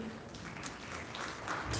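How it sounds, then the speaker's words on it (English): Applause from an audience at an education conclave, a soft, somewhat distant patter of many hands that swells slightly toward the end, with no speech over it. "A big round of applause"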